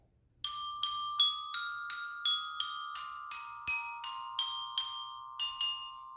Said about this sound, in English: we start off in 5th grade on the bells by just playing one note at a time